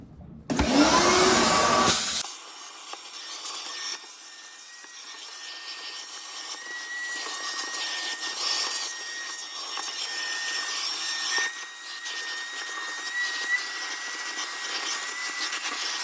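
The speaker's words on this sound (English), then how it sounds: "let's go ahead and vacuum this up" A vacuum cleaner running steadily while clearing debris from inside a Samsung French-door refrigerator; a brief louder burst at the start gives way to a continuous whining hum with slight shifts as the nozzle moves.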